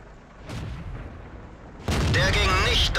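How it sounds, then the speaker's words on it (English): In World of Tanks, a Panzer IV S tank cannon fires at a Churchill: a muffled distant boom, then a loud close blast that rumbles on, with a voice talking over it. "So I'm going to go take some shots at him."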